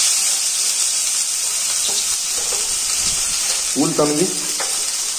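Onion and green chili fry in hot oil with a steady, loud crackling sizzle, with a few scraping stirs and a brief voice speaking near the end.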